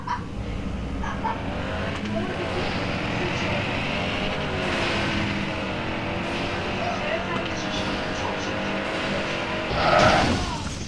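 Race car engines drone continuously in a Tokyo racing video game, with harmonic revving throughout and a brief tire skid or squeal near the end, while people talk over it.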